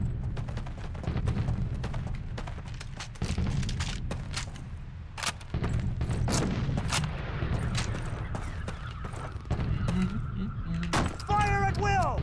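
Dense Call of Duty battle gunfire, with rapid bursts and single shots cracking over constant low rumbling explosions, loud and close throughout, with shouting voices mixed in.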